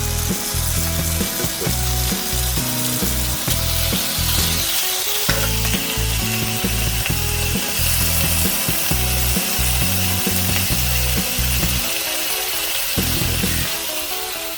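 Steady, loud sizzling of Hoengseong Hanwoo beef on a grill fills the whole stretch, with faint scraping and tapping sounds mixed in.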